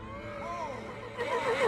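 A horse whinnies and neighs in a rising, wavering cry that grows louder toward the end, in a scene from the film The Lord of the Rings: The Return of the King, over a low background rumble.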